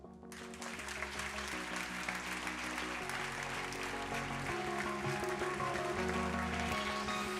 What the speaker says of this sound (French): je vous demande d'applaudir, d'accueillir, comme il se doit, Elisabeth Chungi.